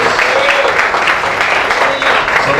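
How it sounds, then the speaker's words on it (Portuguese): Continuous congregation applause in a church, many hands clapping in a thick, steady wash that stays loud and close for the whole stretch, with faint voices blended underneath. "Vamos recebê-lo com palmas para o Senhor"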